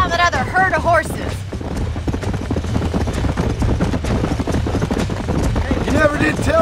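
Horse hooves clip-clopping at a steady pace in the Red Dead Redemption western game, set in New Austin, running continuously under music and overlapping character talk.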